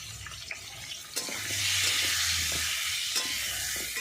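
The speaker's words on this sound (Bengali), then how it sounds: "ডিম আর আলুটাকে ভেজে নিচ্ছি" Egg and potato pieces seasoned with turmeric, salt and chilli powder fry in a pan, giving a close, continuous sizzle with a few sharp stirring clinks, no talking.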